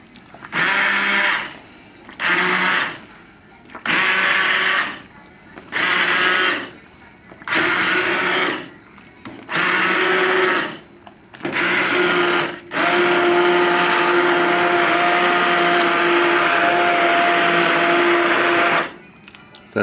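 A blender pulses through cabbage potato soup to partly puree it, running in about seven short bursts separated by brief silences, then holding one long continuous whir for several seconds before stopping, loud and close.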